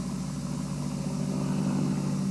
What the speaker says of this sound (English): Believe it or not, this Ford LTD is quieter than the Glider.